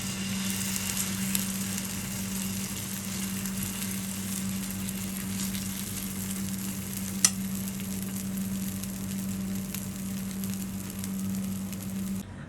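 Rice and egg batter frying in ghee in a pan, a steady soft sizzle with a constant low hum underneath and a single sharp clink partway through.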